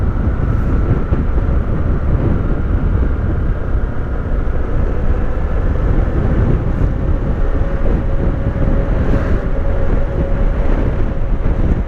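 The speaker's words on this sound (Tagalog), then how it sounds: "Yun, lakas ng hangin." Constant heavy wind rushes loudly past a GoPro Hero4 on a night ride through Laguna, a steady dense roar with a faint engine-like hum running under it the whole time.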